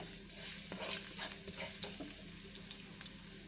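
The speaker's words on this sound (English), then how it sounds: "this is the preheated oil. I'm going to saute the garlic first" Garlic sautéing in preheated oil in a pan, a soft, steady sizzle with faint crackles heard close up and alone.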